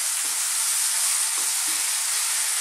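Thai chicken curry sizzling in a pan over high heat, a dense, even hiss with a few faint stirring knocks, close and steady with no talk.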